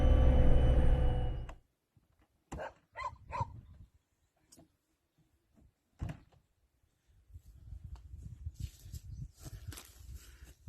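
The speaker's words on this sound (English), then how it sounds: "There's a dog barking." A few dog barks ring out at a distance, separated by quiet stretches, with a loud rumbling burst at the start and some shuffling noise toward the end.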